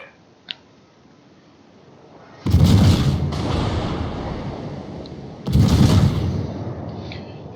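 Main guns of the cruiser Dmitri Donskoi fire in a naval battle game: two heavy booming salvos a few seconds apart, each rolling out in a long rumbling tail after a faint click.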